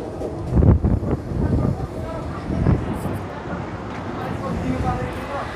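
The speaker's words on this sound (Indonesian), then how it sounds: "keretanya datang" Train pulling into a station in Zhunan, Taiwan, a low rumbling roar with rising surges, heard amid ambient noise while a person talks over it.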